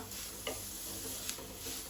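Semolina is stirred and roasted in a pan for Goan-style upma, giving a soft continuous dry sizzle with two brief scraping taps of the spoon, heard alone with no talk.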